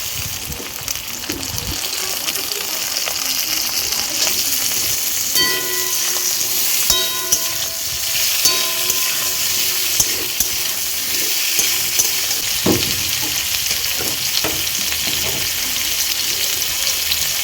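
Tomatoes go into hot oil with fried ginger for a dal, and a loud, steady sizzle and crackle fills the whole stretch, with a few scattered clinks and no talk.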